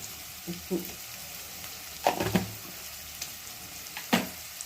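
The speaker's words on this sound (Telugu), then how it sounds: "ఆనియన్స్ వచ్చేదాకా వేయించుకోవాలి." Onions frying in a pan for a Palnadu-style eggplant dish, a steady soft sizzle with a few louder stirring scrapes and clatters at intervals.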